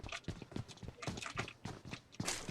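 Footsteps in the mobile battle royale game PUBG Mobile, a quick run of crisp, evenly spaced steps on a hard surface, fairly quiet and with no talk over them.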